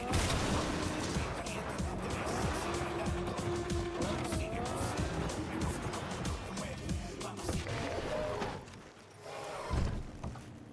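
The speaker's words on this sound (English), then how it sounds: "I don't think this car is made for the dirt." A car driving off-road on dirt in Cyberpunk 2077: steady engine drone with tire squeal and skidding, rolling rough and loud for most of the stretch before briefly dipping and surging again.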